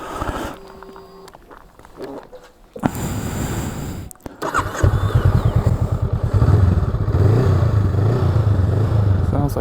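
A 2021 Honda Rebel 500 motorcycle starts up after some handling clatter, then idles and runs with a close, loud, lumpy thumping beat, with voices talking over it.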